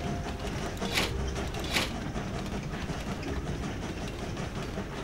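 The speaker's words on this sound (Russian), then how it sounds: "Так, синий поезд запускаем." Blue train set running in the video game Train Valley, a steady rolling rail rumble with clickety-clack and a couple of brief bright mechanical clinks, continuous and moderately loud.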